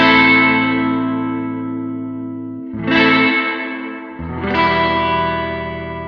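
Guitar chords played through a Fuse Audio Labs VREV-63 vintage spring reverb plugin on a mono track. Three loud strummed chords each ring out with a long, shimmering reverb tail, with no talking.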